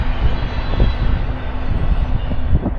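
A train passes close by as a steady, heavy rumble with faint rhythmic thumps of wheels, holding loud and even throughout.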